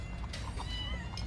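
A cat meows a few times at a household meal, short, faint calls over a low steady background hum.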